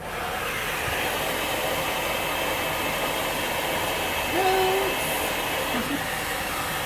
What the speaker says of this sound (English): now I'm gonna do it with the loud noise of the blow dryer